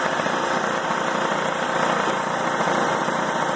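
A new Harvest Right oil-less vacuum pump runs on a freeze dryer with a steady, even mechanical hum and whir, continuous and moderately loud, with no talking.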